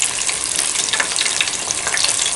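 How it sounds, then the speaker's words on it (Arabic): Breaded chicken tenders deep frying in hot oil give a loud, steady crackling sizzle with dense popping bubbles, close and continuous with no talk. "الان حبيبتي بديت نقلي في النودية تاعي"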